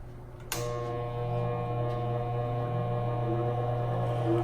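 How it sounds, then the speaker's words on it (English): A small grinder scuffing the paint on a die-cast model car: a sharp click as it starts, then a steady, even motor hum that holds to the end. "So we're going to use our grinder."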